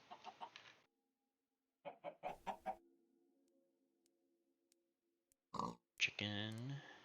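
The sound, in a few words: chickens clucking in Minecraft Sky Factory 3 video game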